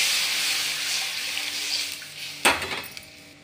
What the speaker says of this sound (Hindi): अब कढ़ाई में पानी डाल,